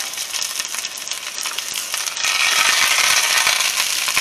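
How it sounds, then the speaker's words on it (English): A tortilla fries in olive oil in a pan for venison street tacos, a loud steady crackling sizzle that swells and grows denser partway through, with no talk. "When I make tacos, I always fry up the tortilla."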